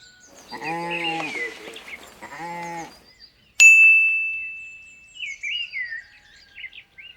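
A wild goat (ibex) of the high Alps bleats twice in quick succession, wavering and close, followed by a bright chime and some chirping.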